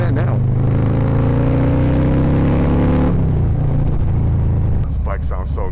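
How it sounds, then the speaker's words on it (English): A Harley-Davidson Street Bob motorcycle engine runs loud and close with a steady low rumble, riding through a tunnel, then eases off near the end as brief speech-like sounds appear. "This bike sounds so good."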